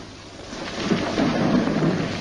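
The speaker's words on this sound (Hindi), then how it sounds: "बारिश हो रही है" Heavy rain pours steadily during a thunderstorm, a dense continuous hiss with a low rumble swelling beneath it, close and loud.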